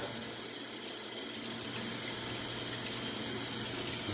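Warm water runs steadily from a tap into a container during a drywall repair, a constant close hiss with no breaks or talk.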